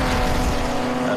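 Classic BMW racing cars at a Classic Sports Car Club meeting at Castle Combe circuit give a loud, continuous engine roar as they pass close by on track.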